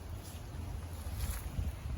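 A wood chipper's gasoline engine idles steadily after warming up, a continuous low rumbling drone with a faint hiss, close and fairly even throughout with no talking.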